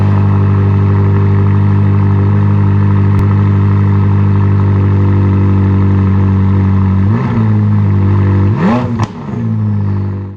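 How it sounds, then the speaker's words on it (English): A McLaren with an MSO titanium super sports exhaust idles loudly with a steady deep drone, then gives two sharp throttle blips near the end. "the MSO titanium super sports exhaust, which is 5 decibels louder than the sports exhaust option"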